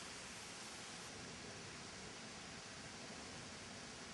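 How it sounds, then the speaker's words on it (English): A garden waterfall pours in a steady, dense rush of falling water, close and constant with no pauses and no voices. "at the end there is a waterfall"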